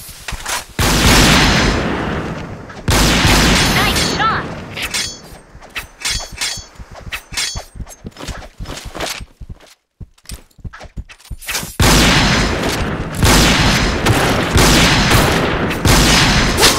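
Rapid gunfire and sniper shots ring out in the PointBlank shooter game, dense loud bursts at the start and end with sparser sharp cracks and clinks through the middle.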